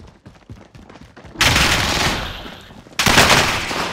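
Gunfire in the video game Call of Duty: Modern Warfare. Scattered, soft shots are followed by two loud, close bursts of sustained automatic fire.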